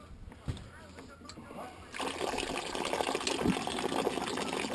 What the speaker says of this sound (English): they're currently pumping water for the shower. I have a tent shower with a small pump.